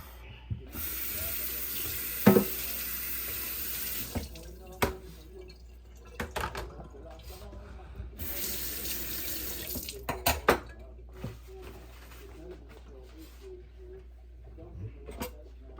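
Tap water runs into a sink to rinse ingredients for ackee and saltfish cooked in coconut milk, a steady close hiss in bursts with brief clatters, while a person talks over it.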